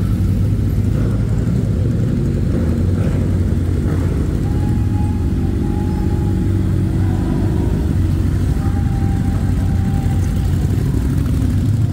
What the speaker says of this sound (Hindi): सुन सकते हो तो loudness of these bikes, super bikes